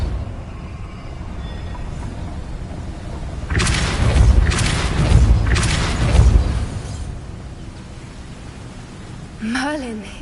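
A Depulso force spell cast in Hogwarts Legacy lets out three heavy whooshing bursts in quick succession over low ambient hum, followed by a short rising magical chime.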